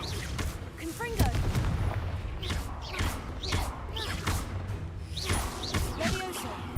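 Confringo blasting spells in the Hogwarts Legacy video game, a rapid series of thumping booms and crackling bursts amid continuous combat noise and whooshing effects, with a voice talking over it.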